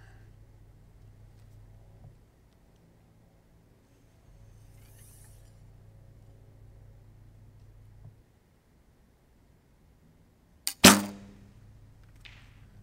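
An archery bow with no stabilizers is shot. After a long quiet stretch with faint background hum, one sharp, loud snap of the released arrow cuts through, followed by a softer knock near the end.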